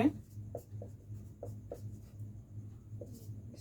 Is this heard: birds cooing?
no